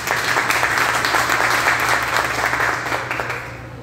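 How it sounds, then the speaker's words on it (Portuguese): Applause from an audience at a chefs' cooking festival event, a steady wash of many hands clapping at full level over a low hum, tapering slightly at the end with no speech. "Vamos aplaudir, gente."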